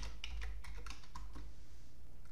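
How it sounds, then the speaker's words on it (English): Typing on a Windows computer keyboard while setting up a network, a short run of crisp key clicks at an uneven pace that fades out after about a second and a half, close and alone over a low hum. "find the subnet mask and gateway by typing in CMD into the"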